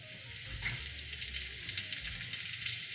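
Marinated chicken breast kebabs sizzle and fry in olive oil, a steady close crackle and hiss that continues with no break and no voices.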